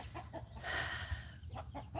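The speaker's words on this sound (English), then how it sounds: "my roosters are having a fit back there" Backyard roosters clucking in agitated short bursts, with one drawn-out crow rising in the middle, somewhat distant behind the room.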